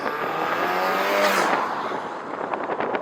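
A stage 3 tuned Audi TT with a 2.0-litre turbo engine accelerates hard, a loud, continuous engine roar that builds and then settles, close by with no talk.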